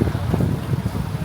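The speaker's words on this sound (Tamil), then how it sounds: "மோட்டர் ஏன்டா டீசல் இன்ஜின் சத்தம் கேக்குது?" A boat's diesel engine rumbles low and steady close by, with a throbbing pulse under gusty wind noise.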